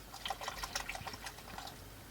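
Water pouring from bottles into a pot with a roast cooking inside, set up in an ambulance camper in the Quartzsite desert, heard as soft close splashing and trickling that swells in bursts with no talk.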